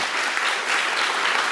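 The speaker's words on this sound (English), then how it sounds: "a big round of applause from us" An audience gives Fares a big round of applause, a loud, dense, unbroken roar of clapping close by.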